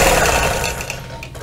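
A sewing machine quilting a flying geese quilt, stitching in the ditch, runs in a loud, fast, steady mechanical whir with rapid needle chatter throughout a short burst.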